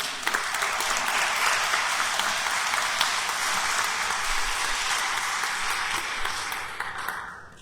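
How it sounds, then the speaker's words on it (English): Sustained audience applause for group leaders at an Appalachia Service Project church service, a dense, steady wash of many clapping hands filling the whole stretch before tapering off at the end. "So a round of applause for these group leaders."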